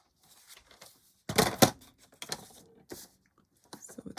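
Paper is trimmed for a book-themed journal, heard as quiet, scattered cutting and rustling sounds with one louder burst early on and faint handling noises in between.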